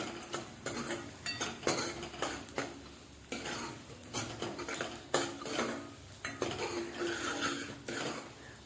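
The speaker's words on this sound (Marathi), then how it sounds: "तांदूळ असे तुपावर भाजल्यामुळं खिरीची चव छान लागते" Rice roasting in ghee in a pot for kheer, stirred with a metal spoon: repeated close scraping and clinking strokes against the pot in an irregular rhythm, with only a faint sizzle and no talking.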